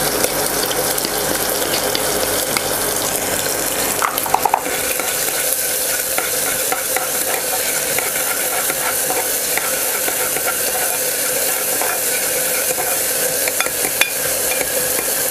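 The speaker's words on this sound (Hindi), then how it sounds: "इस मसाले को अच्छे से हम लोग भून लेते हैं।" Masala of onion and ginger garlic paste frying in a pan, a loud, steady sizzle with constant stirring and scraping heard up close throughout, no speech.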